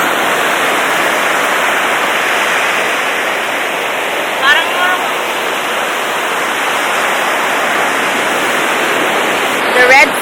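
Big surf rolls in at a beach on a red-flag day just after a storm, a loud, unbroken wash of waves filling everything, with brief voices breaking in faintly.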